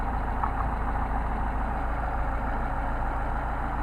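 A car engine with a Solex carburetor idles steadily at a low, even rumble after its air-fuel mixture was adjusted, constant and unchanging throughout with no voices.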